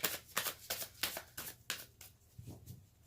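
A deck of tarot cards is shuffled close up in a run of quick riffling bursts, about six crisp rasps at a steady rhythm that fade into softer handling at the end, with no one talking.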